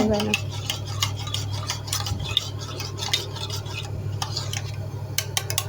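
A spoon stirs milk powder into milk, making quick repeated clinks and scrapes against the vessel over a steady low hum, close and fairly loud throughout.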